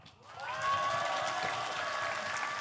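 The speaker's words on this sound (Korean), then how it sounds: "우리 무장포고문을 낭독해 주신 6분께 다시 한번 큰 박수 부탁드리겠습니다" Applause at a commemoration ceremony rises from a quiet start into a full, steady wash of clapping that holds through to the end.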